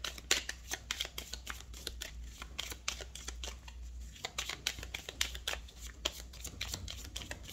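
A deck of Petit Lenormand cards being shuffled close by, with rapid, crisp riffling and snapping strokes repeating steadily throughout, with no voices.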